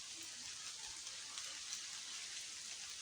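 Steady rain falls outdoors on a school route, a continuous even hiss of drops with no voices.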